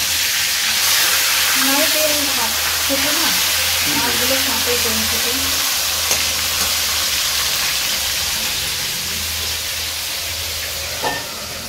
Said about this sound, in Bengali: তুমি মাছগুলো ভাজতে থাকো